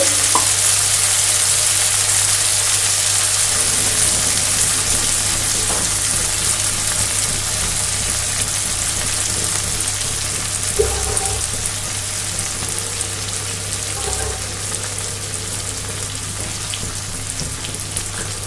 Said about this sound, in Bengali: এই টমেটো পেঁয়াজ কষার মধ্যে কিন্তু অ্যাড করে দেব। অল্প করে জল দিয়ে আমি কিন্তু